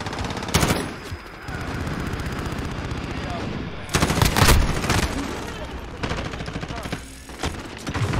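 Turret machine gun fire in Call of Duty Modern Warfare on the Shipment map, with bursts of rapid, loud automatic fire near and far, clustered around the start and middle, over continuous background gunfire.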